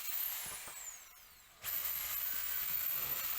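A power drill bores into a wooden jig, whirring with a wavering pitch, dropping briefly, then revving back up at close range.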